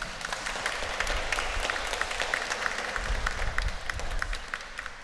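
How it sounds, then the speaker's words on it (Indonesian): Guests at a wedding ceremony applaud the couple, a steady crowd clapping with individual sharp claps standing out near the microphone, continuing evenly throughout. "Kita tepuk tangan untuk mereka."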